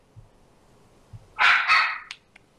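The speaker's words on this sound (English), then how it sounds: "My dog is barking." A dog barks nearby during an indoor conversation, two loud barks close together followed by a couple of softer yips, with no talking over them.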